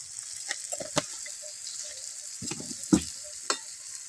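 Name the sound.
spice masala with chilli powder frying and being stirred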